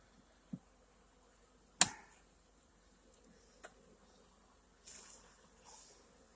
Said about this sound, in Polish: Pszczoły jak widać już wchodzą nowymi wylotkami, jak widzicie tam na dole.